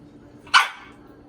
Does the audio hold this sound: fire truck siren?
no